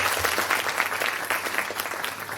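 An audience at a leadership talk with Govind Dholakia claps together in sustained, dense applause, close and fairly loud, with no voices above it.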